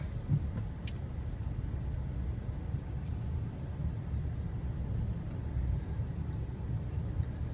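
A Ford truck in four-wheel drive crawls over ground frozen hard and crusty overnight, giving a steady low engine-and-tire rumble throughout, with faint crunches and no talk.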